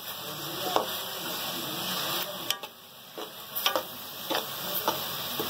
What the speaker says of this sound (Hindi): मसाले करके सब डाल रहे हैं, भून रहे हैं मसाले।